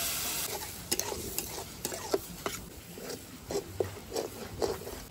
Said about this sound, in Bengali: এবার সামান্য লবণ, এক ফোঁটা হলুদ, এর থেকে সিদ্ধ করা মুগ ডালটা এবার দিয়ে দিচ্ছি